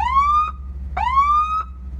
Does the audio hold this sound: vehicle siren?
yes